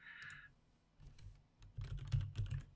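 Fast typing on a computer keyboard at a livestreamed Warzone tournament, bursts of close, crisp key clicks with short pauses between runs, no voices.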